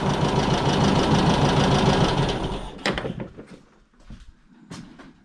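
An old air-cooled Volkswagen engine found in a warehouse runs loud and rough close by, then is shut off after a few seconds, leaving scattered clunks and knocks as it falls silent.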